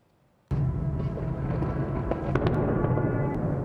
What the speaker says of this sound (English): Explosions rock the Ukrainian capital Kyiv